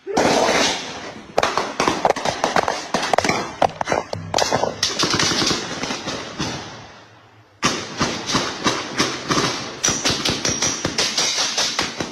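Multiple minutes of nearly continuous gunfire at an apartment complex, with cars riddled and walls punctured: dense rapid bursts of loud shots, a brief lull, then sustained firing again, with people's voices under it.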